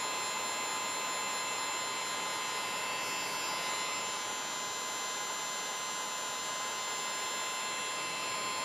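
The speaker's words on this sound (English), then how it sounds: "going to use a heat gun." A heat gun blows steadily while shrinking heat-shrink tape over a soldered wire joint, a continuous airy roar with a high whine, loud and close throughout with no talking.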